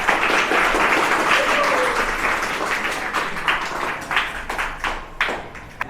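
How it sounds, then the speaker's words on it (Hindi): Students in a classroom clap for themselves, a dense burst of applause that gradually thins into scattered, separate claps by the end. "एक बार अपने लिए ताली बजाएंगे"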